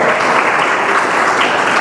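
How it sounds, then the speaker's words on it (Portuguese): A church congregation claps hard and joyfully for the Lord, a brief, even burst of massed applause that stays at full strength throughout. "Vamos aplaudir o Senhor bem forte, com alegria."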